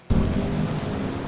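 GT4 race car in Assetto Corsa Competizione, a loud engine note that bursts in abruptly and holds as a sustained rough roar, alone.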